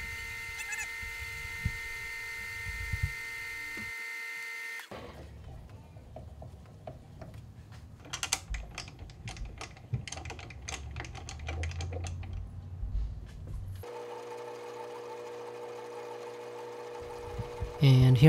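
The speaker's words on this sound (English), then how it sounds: "I flipped the tool upside down and I'm running the machine in reverse." A lathe running in reverse, with the tool flipped upside down, faces the end of a homemade bicycle head tube reamer and facer tool. A steady motor hum opens and closes the passage, with a busy stretch of close clicking and scraping between.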